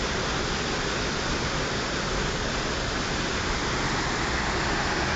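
Strong river current rushes at Bunga Falls as a dense, steady, close wash of water noise that runs unbroken throughout, with no voices.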